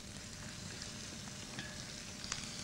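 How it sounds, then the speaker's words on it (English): Food sizzles steadily in a hot wok, a constant close crackling hiss with a few small pops and no voices. "At least it's sizzling."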